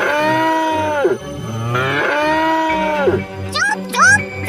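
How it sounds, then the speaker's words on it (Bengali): Cartoon cows moo in long, sweeping, strongly pitched calls, several overlapping in a row, with a background music bed and a short high vocal cry near the end. "দেখো না গরুগুলো কেমন অদ্ভুত ভাবে ডাকছে।"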